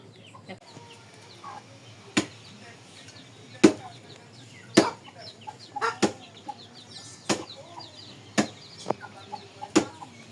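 Chickens and chicks cluck and cheep softly in the background while loud, sharp chopping knocks land every second or so as palm fruits are broken open outdoors.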